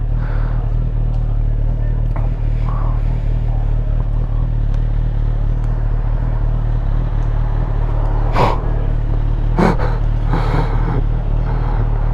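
A motorcycle rides along a road in Kashubia, Poland, with a loud, steady engine drone and rushing wind heard close up throughout, plus a few brief clatters near the end.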